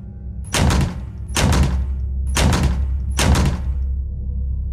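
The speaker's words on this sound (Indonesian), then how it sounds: "Semakin lama semakin keras ketukan itu." Four loud rounds of knocking on a dormitory room door at night, each a dense burst of heavy thuds with short gaps between, growing slightly more forceful toward the end, no voices present.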